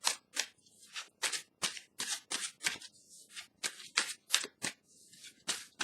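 Tarot cards being handled and drawn from a deck, a rapid series of crisp, papery snaps and flicks in an irregular rhythm, close and clear in a quiet room.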